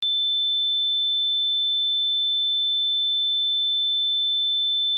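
A single steady, high-pitched pure sine tone, 3520 or 3530 Hz, holds unchanged at constant volume from start to finish, with a tiny click at the onset.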